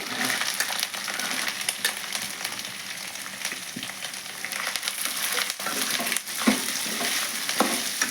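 Cut onion pieces drop into hot oil with ginger paste for an egg curry, frying with a steady close sizzle and occasional scraping stirs and knocks against the pan, with no voices.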